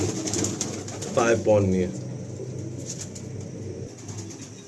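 Pigeons in a large loft in South Kolkata, a soft low cooing and rustling bed with a brief burst of wing flapping near the middle, heard under a man's close speech.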